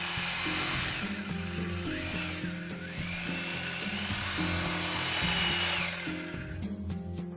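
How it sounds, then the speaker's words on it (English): A power drill with a masonry-type bit bores holes into a wall while a water heater bracket is mounted, a steady loud whining drone running throughout with slight pitch shifts as pressure changes. "make holes in the wall using an appropriate drill bit"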